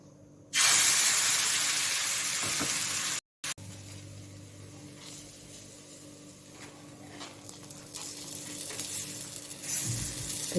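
Gram flour batter hits a hot pan on a gas stove with a loud, close burst of sizzling hiss that drops to a softer, steady sizzle, with occasional scraping and no talking.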